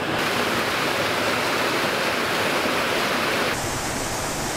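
A waterfall at a trout fishing spot pours in a steady, close, full roar of falling water, loud and unbroken with no talk.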